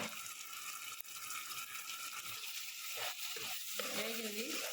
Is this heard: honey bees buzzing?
no